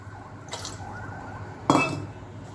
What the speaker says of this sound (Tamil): சட்டி வச்சுருக்கேன். அதில் ஒரு 2 கிளாஸ் தண்ணி.